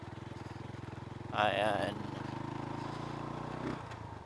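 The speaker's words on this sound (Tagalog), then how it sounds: "Nahirapan ang aking motor." Motorcycle engine labouring on a rough, obstructed road near Lobo, Batangas, a steady throbbing drone held close throughout while a voice briefly speaks over it.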